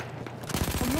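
Rapid machine gun fire from the Battlefield 1 video game starts abruptly midway, a dense burst of repeated shots that is loud and close.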